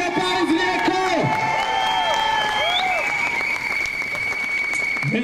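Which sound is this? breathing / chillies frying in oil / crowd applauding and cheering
crowd applauding and cheering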